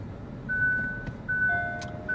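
Two short electronic reverse-gear beeps repeat at a steady interval, followed by a slightly lower tone, over a quiet low engine hum inside a Genesis G90.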